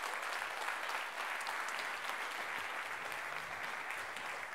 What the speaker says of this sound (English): So let's welcome Chris Govias with a big round of applause.